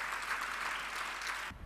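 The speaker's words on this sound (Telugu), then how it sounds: "చప్పట్లతో దేవుని స్తుతిద్దాం" A church congregation claps in praise at a Christmas service, a steady wash of many hands that fills the room and stops abruptly near the end.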